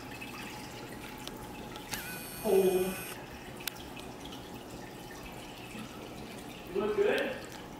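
Water drips and trickles as it is drawn out of an aquarium, heard as two short, soft splashy bursts over a quiet room, with a brief spoken exclamation.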